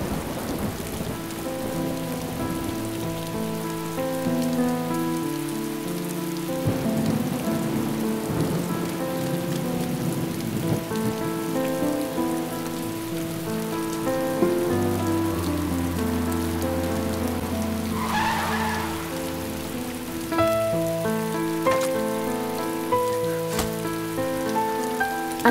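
Heavy rain pours steadily on surfaces throughout, with soft thunder rumbling beneath, mixed under a continuous background music score and no voices.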